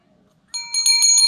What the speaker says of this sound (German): Die Glocke!